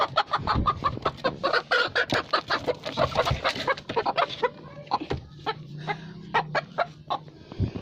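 Hens cluck repeatedly near a small coop-like nest gap, busy overlapping calls with a crow-like note from the flock, steady and fairly close throughout.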